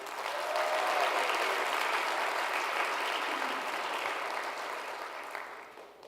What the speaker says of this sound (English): So a loud blue and white applause for our Lynn University coaching staff.